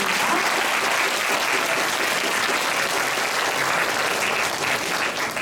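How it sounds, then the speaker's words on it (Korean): An audience at a high school team debate final claps steadily and loudly for the full span, a dense, even roar of applause with no break. "모든 양 팀에게 다시 한번 박수 부탁드립니다."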